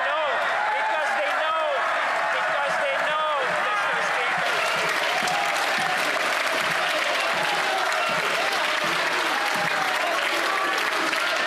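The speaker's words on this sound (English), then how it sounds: "The Conservatives just jump up and start clapping." Sustained applause and clapping from legislators in the Canadian House of Commons during Question Period, a dense steady roar of hands with voices mixed in, lasting throughout.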